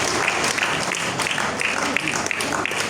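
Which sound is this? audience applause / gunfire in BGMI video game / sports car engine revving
audience applause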